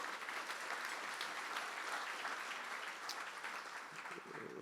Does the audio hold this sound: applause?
yes